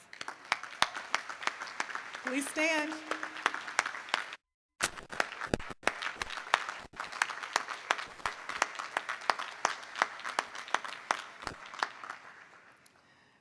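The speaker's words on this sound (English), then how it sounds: "Would you please stand for applause?" Audience applause at a 2009 community college commencement, scattered individual claps ringing out near and distinct, briefly interrupted by a short spoken request and a gap, then continuing in a steady patter before fading.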